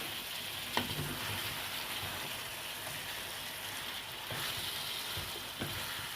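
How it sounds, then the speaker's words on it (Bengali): Chicken meat with cumin powder and salt is stirred as it fries in a pan, producing a soft, even sizzle with occasional spoon knocks. "এবার ভালো করে নাড়াচাড়া করে নেব মাংসটা"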